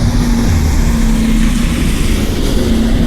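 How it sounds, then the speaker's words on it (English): Road traffic on a Blackpool street in midwinter, a loud continuous rumble of passing vehicles with a steady low engine drone, close by and unbroken. "Sorry about the traffic noise."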